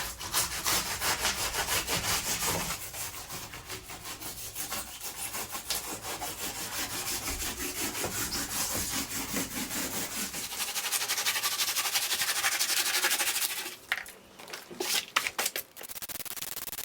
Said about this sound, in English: I'm just using a saw to take off all the high bits of foam